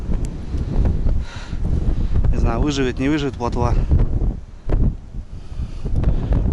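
Strong wind gusts across a frozen river on a winter pike-fishing outing, with steady low roaring buffeting against the microphone while someone talks throughout.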